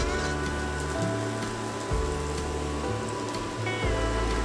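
Pea filling for Bengali kochuri fries in a wok with a steady, rain-like sizzle, while a spoon stirs and scrapes it in low, repeated strokes. No one speaks.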